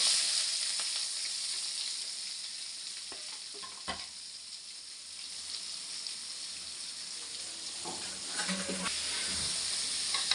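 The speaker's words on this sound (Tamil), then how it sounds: "வெங்காயம் நல்லா வதங்கட்டும்" Onions sautéing in hot oil with green chilli, ginger, garlic, popped mustard seeds and fennel, a constant close sizzle with occasional spoon scrapes and knocks against the pan.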